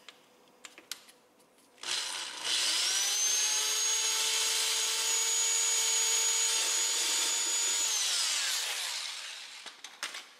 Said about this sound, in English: I am using the 90-degree drill because it's just so much easier with everything going on here.